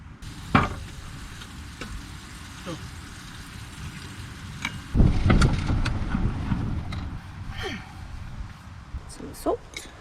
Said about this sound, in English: Breakfast of bacon and eggs.